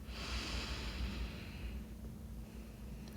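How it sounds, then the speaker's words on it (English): A slow, deep breath drawn in during a quiet guided relaxation, a steady soft airy rush lasting a few seconds, near and gentle, with no talking. "take a deep breath"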